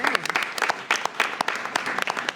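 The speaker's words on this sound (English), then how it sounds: "I think we should clap our hands for all of that" Meeting attendees at a college board of trustees session clap their hands in a short, steady round of applause, many hands together with quick sharp claps, close and moderately loud.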